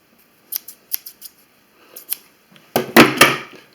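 Steel scissors handled during a sharpening job, with a run of short, crisp metallic snips and clicks, then a louder cluster of clattering and scraping near the end, close and clear with no talk.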